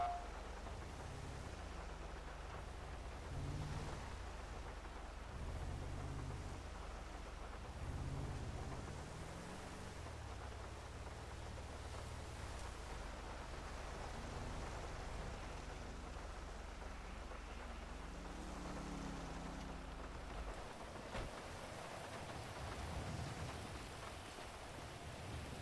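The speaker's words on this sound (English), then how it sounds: "It's a little rainy out there, huh?" Rain falls in the video game GTA V, a steady broadband hiss of drops on surfaces under low rumbling, constant for the whole stretch without talking.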